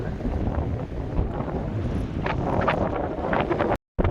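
Strong wind buffets the microphone in a continuous low roar, with gusts rising and falling before a brief cutout near the end.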